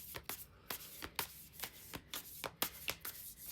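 Tarot cards shuffled by hand in quick repeated riffles, sharp papery slaps and flutters arriving in an uneven rhythm, close and fairly quiet with no talking.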